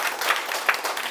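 An audience applauds at a lecture, a short burst of scattered hand clapping from a crowd in a room.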